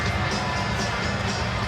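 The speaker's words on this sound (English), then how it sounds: "some oohs and ahs from the crowd here at the Palace" Arena crowd at the Palace, home of the Pistons, oohing and ahhing after Dwyane Wade's alley-oop throwdown for Miami, a steady dense roar of many voices throughout.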